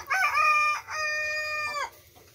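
A rooster crows once, close and clear, a drawn-out call with a short break in the middle.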